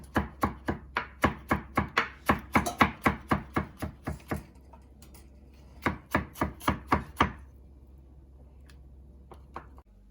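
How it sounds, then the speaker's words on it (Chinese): A kitchen knife chops small carrots into thin strips on a board, fast rhythmic taps close by in two runs with a pause between, then a few scattered cuts. "也是将胡萝卜切成丝。"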